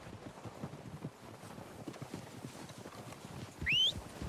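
Horses' hooves clip-clop in a steady, uneven patter in Red Dead Redemption 2, fairly faint and drawing nearer, with a brief high whistle-like tone near the end.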